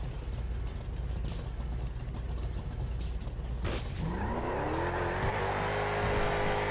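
Cars racing in GTA 5, a constant loud engine roar and rumble that builds into a rising high-revving acceleration whine, close and without talking.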